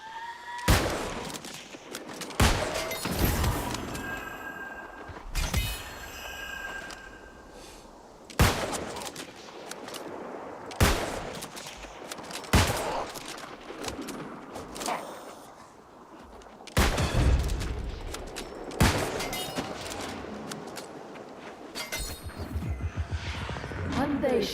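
Gunfire from the online fantasy game New World: a string of loud, sharp shots and bursts fired at irregular intervals over about 25 seconds, with crashing impacts and other game effects mixed in.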